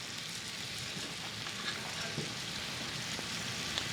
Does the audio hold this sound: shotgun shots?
no